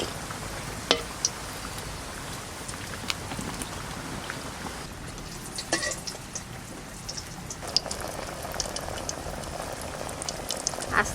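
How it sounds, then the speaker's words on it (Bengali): Malpua made with palm fruit frying slowly over low heat, a steady soft bubbling of oil with scattered small crackles and pops, close and moderate in level, with no voices. "আস্তে আস্তে জাল দিয়ে ভাজতে হবে, নাহলে পুড়ে যাবে আর ভিতরে আবার কাঁচা থেকে যাবে।"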